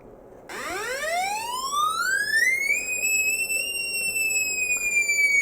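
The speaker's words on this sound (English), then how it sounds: "Sounds like a police siren." An electromagnetic water treatment device gives off a steady electronic signal like a police siren: a bright tone sweeps upward, then levels off and holds, droning continuously and fairly loud.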